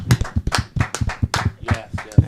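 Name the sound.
audience applause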